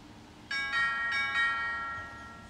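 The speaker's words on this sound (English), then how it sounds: "you can hear that tone" Chime tone from a Eufy battery-powered video doorbell: a bright multi-note ding-dong chime with sustained ringing harmonics, struck three or four times in quick succession and then fading, heard clearly and alone.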